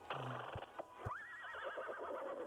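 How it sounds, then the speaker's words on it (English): A horse in the video game Wanderstop gives a loud, quavering whinny that rises then wobbles down, after a few soft thuds, all set against quiet background music. "Or the horse noises, I suppose."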